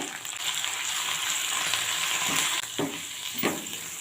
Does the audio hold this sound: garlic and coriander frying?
yes